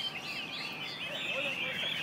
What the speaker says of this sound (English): It's really interesting, there's just a lot of birds.